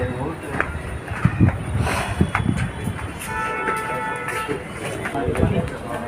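A train rumbles past nearby at Dahanu station, with a loud, steady rolling clatter, while people talk close at hand over the noise.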